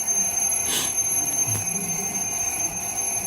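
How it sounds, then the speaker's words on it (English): An old alarm clock ringing: a steady, shrill, sustained metallic ring holding at a constant level throughout, with a couple of faint knocks underneath. "Who has an old alarm clock like that?"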